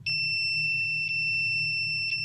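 An infrared thermometer pyrometer alarms at its upper limit of 200, a sustained high-pitched electronic tone with faint pulsing beeps, heard close and alone over a low background hum.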